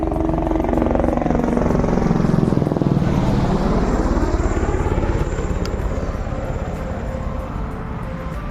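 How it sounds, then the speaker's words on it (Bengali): A helicopter flies low overhead along the Amarnath Yatra mountain route, its loud, continuous rotor chop sweeping in pitch as it passes close by and slowly fading afterward, with no talk. "দেখো আমার উপর দিয়ে হেলিকপ্টার উড়ে যাচ্ছে"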